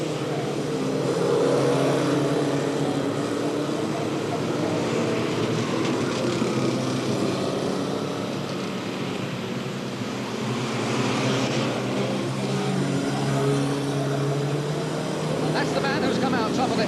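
Saloon stock cars from 1975 race around a speedway track, their engines blending into a dense, continuous roar that holds steady throughout, with voices faintly mixed into the din.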